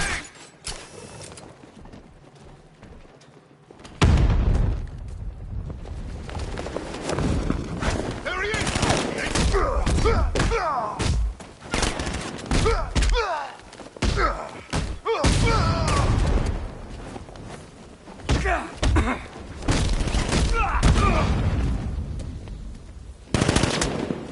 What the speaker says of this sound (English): I think it's grenade!